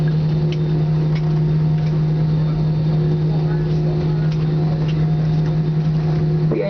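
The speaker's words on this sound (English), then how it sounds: "we have just landed at the Ninoy Aquino International Airport" Cebu Pacific airliner taxiing at NAIA in Manila after landing, heard from inside the cabin as a steady engine hum with a constant low tone and background murmur.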